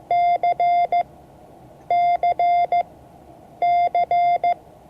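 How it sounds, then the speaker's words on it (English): Morse code letter C sounded as a steady electronic beep tone, the long-short-long-short pattern repeated three times with clear pauses between groups, loud and alone. "what's the sound of a C?"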